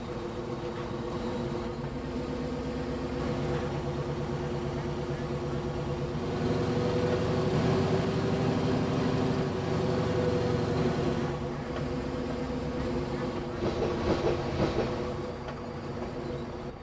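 A train engine in the Trainz Plus railway simulator on the Elsecar Heritage Railway revs up, a steady loud diesel drone with a rising, fuller middle stretch and a second surge near the end, continuous throughout with no talk.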